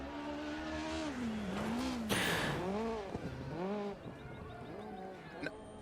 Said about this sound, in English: So you can hear me on the throttle, just getting the car sideways usually slows you down quite a bit